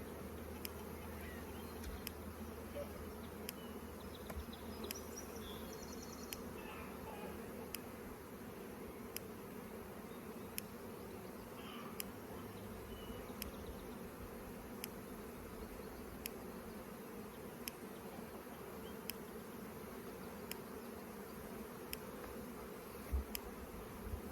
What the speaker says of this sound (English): Now this hive is packed with bees, so we got to be very careful here.